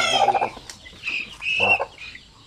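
A mother hen clucks close by in a farmyard where Cross Basilan chicks are kept, giving a few short throaty clucks and rising calls in irregular bursts with no talking.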